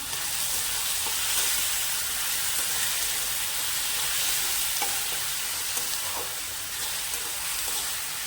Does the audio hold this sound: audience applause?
no